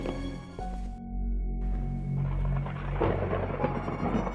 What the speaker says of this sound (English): as rain poured down and thunder rumbled